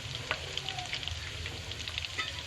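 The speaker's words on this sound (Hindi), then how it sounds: "घी में हमने अदरक लहसुन का पेस्ट डाला और इसे अच्छी तरह फ्राई करेंगे।" Ginger garlic paste fries in hot ghee with a steady, soft sizzle and small popping crackles, quiet and close with no talking.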